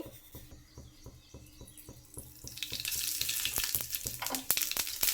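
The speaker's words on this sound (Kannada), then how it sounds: "ಎಣ್ಣೆ ಕಾದಿದೆ ಸಾಸಿವೆ ಹಾಕ್ತಾ ಇದ್ದೀನಿ" Mustard seeds dropped into two spoons of hot oil for tempering coconut chutney, crackling and sizzling in a steady patter of small pops that swells louder and denser halfway through, with no talk.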